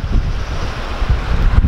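A river rushes below a bridge in Arunachal Pradesh, a loud continuous roar of flowing water mixed with wind buffeting the microphone.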